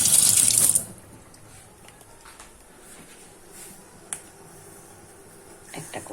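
Running tap water gushes over green and ripe red chillies for under a second, then cuts off, leaving a quiet kitchen with a few faint clicks and knocks.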